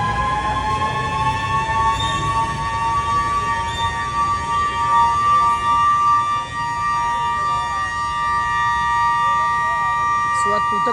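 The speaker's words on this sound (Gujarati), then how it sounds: "તો હવે જે આ તૂટક સાયરન સંભળાવું, દેટ મીન્સ કે કંઈક ડેન્જર છે ઉપર" An intermittent civil defense danger siren sounds loud and near, its steady warbling tones rising and falling in repeated bursts over a low background rumble.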